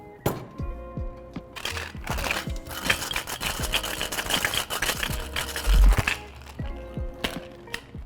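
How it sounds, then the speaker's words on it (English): Ice rattles hard inside a sealed cocktail tin as a tequila cocktail is shaken for about eight seconds, a dense, steady churning of clattering cubes with a brief heavier thump near the end. "Seal the tin and we're going to shake for 8 seconds."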